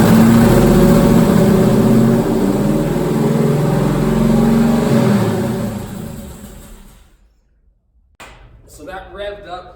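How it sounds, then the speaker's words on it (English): A Jeep engine, fitted with a newly stronger fuel pump, roars loudly with a deep rumble, then winds down and falls silent before a voice speaks. "So that revved up."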